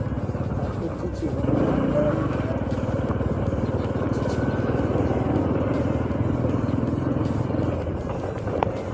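A Bajaj CT 100 ES 100cc motorcycle with telescopic front suspension rides over a broken road, its engine droning steadily and close throughout, with road rumble and occasional rattles underneath.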